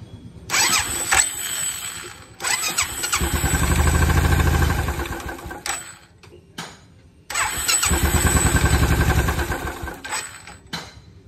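Royal Enfield Bullet motorcycle with a newly fitted self starter fires up twice, each time cranking briefly and catching into a loud, close thumping run before cutting off.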